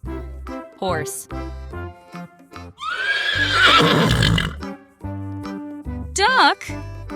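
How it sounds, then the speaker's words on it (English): A horse lets out one long, loud whinny that rises and then trails off, standing out against cheerful children's music that plays before and after it. "Horse."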